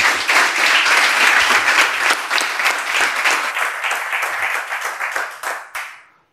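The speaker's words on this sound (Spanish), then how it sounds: "le damos un fuerte aplauso a Miquel y empezamos" Loud, dense applause from an audience welcoming a speaker at a talk, sustained clapping close by that tapers off and stops abruptly near the end.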